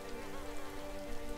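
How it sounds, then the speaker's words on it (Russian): Steady rain falls in the video game DayZ, a dense even hiss of drops on surfaces, continuous and fairly quiet with no voices. "дождь, лей, лей, лей, лей, лей, лей"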